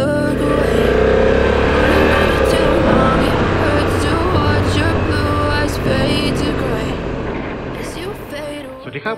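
Honda NT1100 motorcycle engine running while riding, a loud, steady, close drone with a broad rush that holds throughout and eases slightly near the end.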